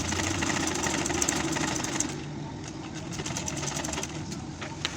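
A sewing machine top stitches a fabric baby nest with a steady rapid mechanical whir and chatter. The motor hum is continuous and close, easing slightly partway through.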